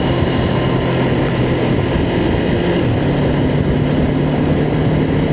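Honda NX500 motorcycle engine droning steadily while riding in third gear, loud and continuous with strong low rumble and wind noise, no talking.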